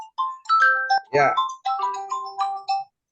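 A phone ringtone for an incoming call plays a short, clear melody of chiming electronic notes close by, and someone briefly speaks over it.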